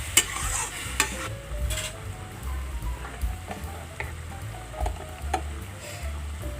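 Vegetables and singhi fish curry with cumin stirred in a pan, giving a steady close scraping and soft sizzling with light ticks, no voices.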